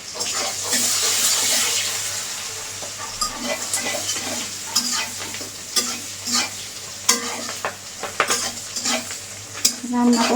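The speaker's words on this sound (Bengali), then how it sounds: "চুলায় কড়াইতে পেঁয়াজ কুচি দিয়ে দিলাম।" Chopped onion fries in a wok on the stove. A steady sizzle plays up close, broken by repeated scraping and clattering stirring strokes that come in irregular bursts.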